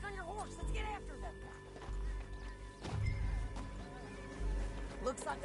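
Horse hooves clip-clopping in Red Dead Redemption 2, with a neigh or whinny cutting through and a bed of game music and ambience underneath; the hoofbeats come in irregular clusters rather than a steady gallop.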